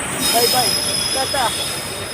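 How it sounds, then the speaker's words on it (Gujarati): A train bound for Keshod and Veraval rolls past near Junagadh bus stand, its steady rumble overlaid with high, sustained wheel squeals and a few squeaky metallic whines. "જો પાછળથી ટ્રેન જઈ રહી છે જે કેશોદ વેરાવળ તરફ જઈ રહી"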